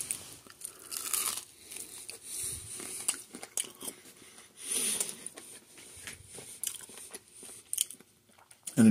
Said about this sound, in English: It has a crunchy outside.